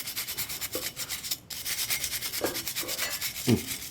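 A brush scrubs a dirty motorcycle sprocket, repeated close rubbing strokes in a steady back-and-forth rhythm with a few sharper scraping accents.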